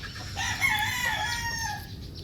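A 5K Sweater gamefowl rooster crows once in a loud, drawn-out call that rises and trails off, close by and standing alone with no talk over it.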